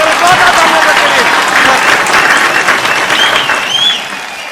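An audience at a stage event in Tata Nagar breaks into loud, dense, sustained applause with some cheering voices mixed in, the clapping easing slightly toward the end.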